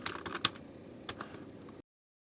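Soft keyboard typing nearby: a short burst of quiet clicks, then a couple of sharper keystrokes, stopping abruptly before a moment of silence.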